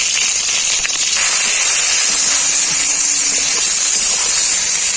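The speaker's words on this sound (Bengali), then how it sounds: "বেগুনগুলো আমার খুব ভালো করে ভাজা হয়ে গেছে" Loud, dense hissing and crackling of eggplant frying in hot oil with salt and turmeric, spitting steadily and close up, with no one speaking.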